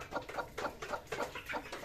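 Repeated soft clucking from a hen, a steady series of short throaty calls close by, with a faint background hum.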